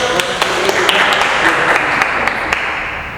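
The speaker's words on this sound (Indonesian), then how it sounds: "Oke, tepuk tangan dulu" Students at a high school talk show in Sumedang clap together, a fairly loud, steady patter of many hands with a few sharper individual claps standing out and a murmur of voices underneath.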